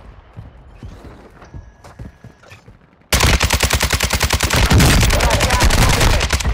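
Call of Duty: Modern Warfare II gunfire: after a few quiet seconds of scattered distant shots and clatter, a loud, sustained burst of rapid automatic fire erupts and continues without pause to the end.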